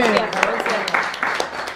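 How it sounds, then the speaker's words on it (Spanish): Applause for Gerardo after a talk on economics and politics: dense, steady clapping fills the whole stretch, with a voice talking over it. "un aplauso para Gerardo"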